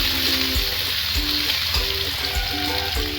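Tomatoes fry with spices in a pan for a Bengali chicken curry, a dense steady sizzle with periodic stirring scrapes and knocks of a spoon, close and loud with no talk.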